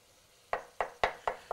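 Minced carrots stirred into crumbled chili meat in a pan: five quick, evenly spaced scraping strokes, close and fairly crisp, with no voices.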